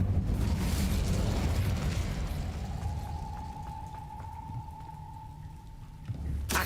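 Incendio fire spell cast in Hogwarts Legacy, a loud rushing burst that fades into a steady crackling hiss with a thin sustained tone, ending in a sharp snap.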